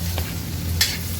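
Garlic sizzles and spits in hot palm oil in a pan, a steady close fry with low hum beneath and a brief louder hiss burst near the end as it is stirred.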